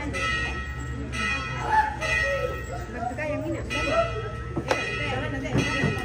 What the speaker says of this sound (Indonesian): Lonceng sudah berbunyi, lonceng ketiga, bertanda bahwa pemberkatan nikah akan segera berlangsung.